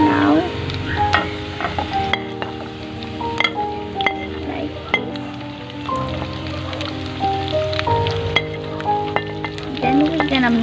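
Onion frying in a hot pan, with crackling sizzle and repeated spoon stirs and clinks close by, over a background of faint tonal sounds.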